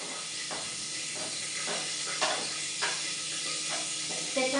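Tomatoes drop into a pan of hot spice masala, steady sizzling and hissing frying sound with small stirring bursts, close and continuous.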